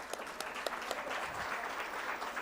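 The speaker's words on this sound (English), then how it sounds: "Please give them all a huge round of applause." Audience applause at the NPS Diwas 2025 plenary as dignitaries are called onto the stage, a steady crowd clapping held at an even level throughout, slightly distant.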